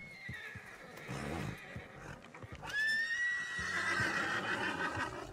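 A horse in Red Dead Redemption 2 lets out a long, rising neigh close by in the middle, with softer snorts and hoof sounds before and after.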